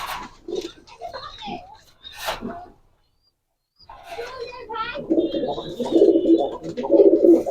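High-flyer pigeons at a pigeon farm coo in low, soft rolling bursts that grow steadier toward the end, heard near and mixed with people talking.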